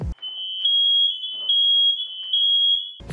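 Fire alarm in a Victorian house under renovation, sounding a steady, shrill high-pitched beep that holds almost continuously for about three seconds in a quiet room, with faint background movement.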